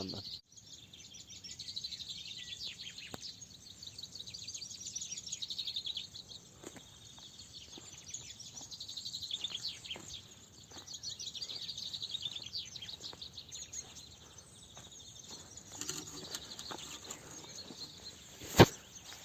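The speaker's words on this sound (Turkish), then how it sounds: "kuşlar yeni günü karşılıyor. Onların sesleri de bize moral oluyor" Several birds chirp and twitter continuously at a distance in the morning at a winter campsite, a soft layered chorus with a brief sharp knock near the end.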